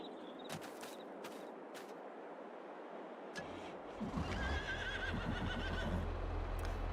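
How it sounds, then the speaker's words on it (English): Horses whinny and neigh repeatedly in Farming Simulator 22, shrill calls rising over steady hoof clip-clop and a low droning hum that grows louder partway through; no talking. "The horses are noisy."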